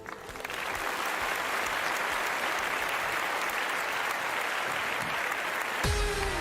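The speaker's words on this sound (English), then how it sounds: "I like the sound of that applause." Live webcast audience at a news-parody show breaking into sustained applause, a loud, even wash of many hands clapping that cuts off abruptly near the end.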